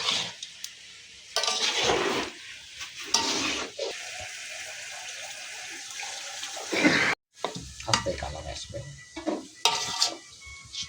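Meat frying in oil in a pan, with bursts of hissing sizzle that swell and fade as it is stirred, along with occasional utensil scrapes and clinks close by.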